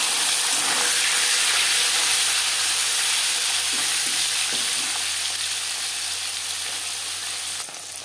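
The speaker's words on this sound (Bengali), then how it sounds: "4 চামচ রিফাইন্ড অয়েল গরম করে নিয়েছি। এবার দিয়ে দেবো ম্যারিনেট করে রাখা মাছ।" Marinated bele fish frying in hot refined oil, a loud continuous sizzle and hiss that holds steady throughout and eases off slightly near the end.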